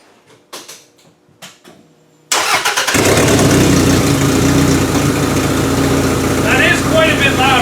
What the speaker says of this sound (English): So let's fire it up now and see how loud this thing is.